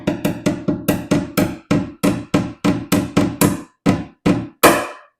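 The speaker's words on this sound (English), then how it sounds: "I have a really small hammer here and I'm just tapping." Sharp tapping from a small hammer fitting trim on a 1968 Volkswagen Beetle, about fifteen quick knocks in uneven bursts with brief pauses, close and crisp.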